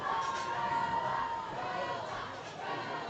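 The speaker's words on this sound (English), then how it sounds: "The crowd's chanting Bella." A crowd at a powerlifting state championship chants and cheers for a lifter, a distant, reverberant roar of many voices rising and falling as heard from across the venue.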